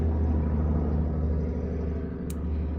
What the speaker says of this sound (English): loud trucks in the neighborhood